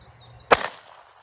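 A single sharp report from a .32 ACP 71-grain full metal jacket round fired from a Czechoslovakian VZ50 pistol into a French F2 Spectra helmet, one loud close crack that decays quickly against a quiet background.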